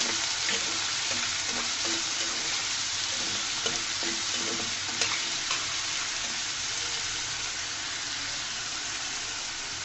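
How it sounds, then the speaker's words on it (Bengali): Potato pieces fry with lightly browned onions in a pan, giving off a steady, even sizzle throughout, with a few faint stirring clicks. "আলুটাকে সুন্দর করে ভেজে নিব 1-2 মিনিট মতো।"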